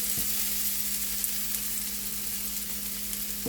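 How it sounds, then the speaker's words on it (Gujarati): Orange peel curry fries in a pan while being stirred, giving a continuous loud close sizzle with light scraping at the start and end. "હવે આપણે હલાવતા રહીએ છીએ ત્યાં સુધી આપણે નીચે ચોંટે નહીં તેનું ધ્યાન રાખવાનું છે।"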